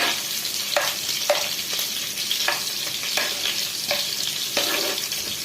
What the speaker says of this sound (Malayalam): കുറച്ചുള്ളി ഒന്ന് വഴറ്റി കൊടുക്കാം